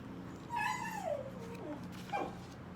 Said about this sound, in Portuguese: esse chororô é minha cachorra